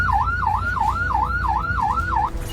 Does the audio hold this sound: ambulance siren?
yes